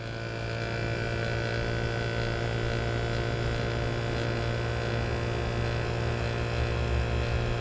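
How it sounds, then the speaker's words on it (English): A vacuum pump hooked up to a Testo 552i vacuum gauge runs with a steady, unchanging electric hum and drone, constant in level for the whole stretch, with no voices. "That is a good vacuum pump."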